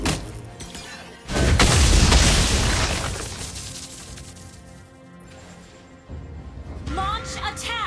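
A turret explodes in a mobile battle arena game with Gatotkaca, a loud booming blast that swells and slowly fades over several seconds, then layered game effects and chiming tones follow.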